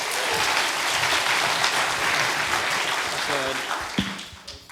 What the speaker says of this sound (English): Quick round of applause, please.